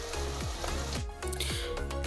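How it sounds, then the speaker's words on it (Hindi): Chicken sizzles steadily in a pan over a normal flame, a continuous frying hiss broken by a few soft scraping clicks, with no talking. "इनको लाइट से हम फ्राई करेंगे, नॉर्मल फ्लेम पे इसको फ्राई करेंगे"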